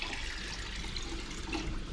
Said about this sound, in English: I can hear the water, and it's going out here and going down through the zones